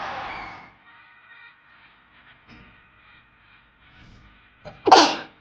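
A single sharp sneeze bursts out near the end, loud and close, after a quiet stretch with faint background tones and soft murmurs from a rugby broadcast playing in a room.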